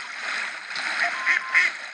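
Ducks quack in the tank game World of Tanks Blitz, producing a few soft, thin calls over a steady wash of game ambience.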